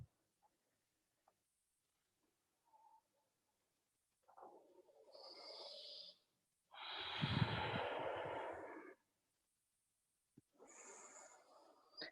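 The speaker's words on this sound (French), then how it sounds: "Puis venez trouver 3 profondes respirations." Three slow, deep breaths taken standing at the front of a yoga mat during a vinyasa flow class, each a soft rushing inhale or exhale, close and quiet with silence between them.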